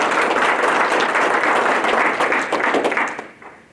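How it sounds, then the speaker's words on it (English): A crowd at a Hall of Fame ceremony applauds steadily, a dense wash of many hands clapping that fades out near the end. "Let's give them a round of applause."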